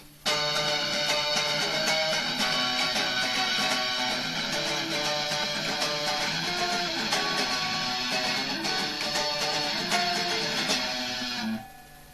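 Guitar chords fretted with the index and ring fingers ring out in a steady strummed pattern. The playing is dense and full for about eleven seconds, then stops abruptly, with no talking.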